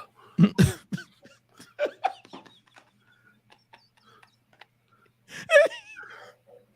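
A couple of harsh coughs at the start, then scattered small breathy sounds, and another rough cough-like burst near the end; no clear speech.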